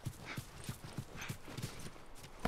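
Horse hooves clip-clop at a walking pace in The Last of Us, an even run of soft, fairly faint thuds repeating about every third of a second, with no talking over them.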